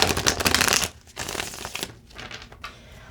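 Tarot cards being shuffled by hand, a dense papery riffle for almost a second followed by several softer, broken shuffling bursts, close and alone with no talk.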